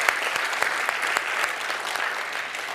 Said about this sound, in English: Yes, a big round of applause for both of them.